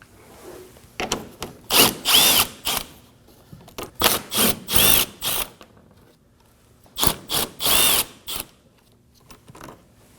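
Power tool whirring in three bursts of several short pulses each while removing 10mm bolts at the front fender well of a 2014-2020 Acura MDX, close and loud with quiet gaps between.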